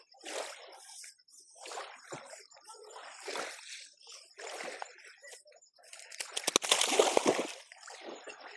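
Water splashing and sloshing at a river during a bathing outing, irregular splashes at moderate distance, rising to a burst of heavier splashing near the end; no clear talk.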